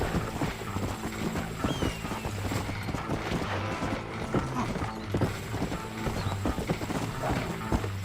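Steady clip-clop of horse hooves trotting in Red Dead Redemption on PC, mixed with a busy layer of mechanical clanks and ambient game noise, no talking.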